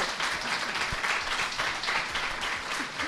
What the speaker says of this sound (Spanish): deberíais dar un aplauso por lo menos a los invitados ahora